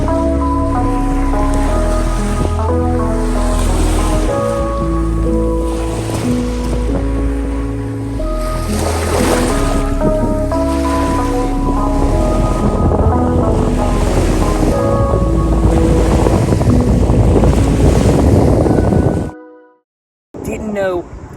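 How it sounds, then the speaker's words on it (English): Gulf of Mexico surf at Padre Island, Texas, a loud continuous wash of waves with heavy wind buffeting the microphone, cutting off abruptly near the end. "There she is, the ocean. This is the Gulf side."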